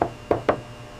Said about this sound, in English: A hollow tap. That's the sound of done.